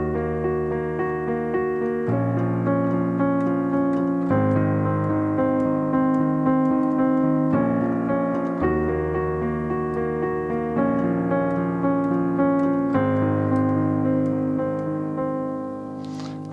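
Piano plays the bridge of a song as an easy accompaniment: sustained chords change every couple of seconds under a steady, moderately loud wash, with no voice.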